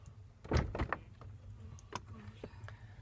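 A window or door being opened a little indoors, a short sliding scrape and clunk up close followed by faint handling noises, with a voice murmuring softly.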